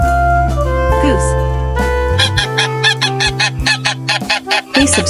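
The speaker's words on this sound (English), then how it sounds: "Goose." A farm goose honks repeatedly, loud and close, in a run of sharp, nasal calls following a lower sustained tone at the start, with no other animals competing.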